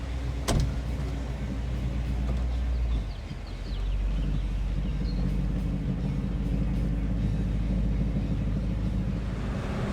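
A 1959 Ford Galaxie on air ride suspension cruises down the road, its steady engine and road rumble holding low and constant, with a brief dip before the drone settles back in.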